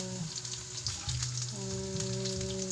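Split longganisa sausage fries in a pan with a soft, steady sizzle and scattered crackles, faint and close, under a sustained tonal hum with no talking.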